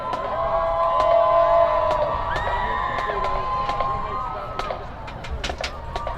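A high school football stadium crowd cheering and whooping for the Mighty Trojan Band, sustained and loud with whistles and shouts, under an announcer's voice over the PA.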